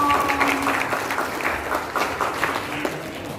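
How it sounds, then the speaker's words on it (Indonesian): An audience at a children's talk show in Samosir claps in sustained, full applause, loud and even, with brief crowd voices mixed in near the start. "Tepuk tangan dulu buat Kak Seto"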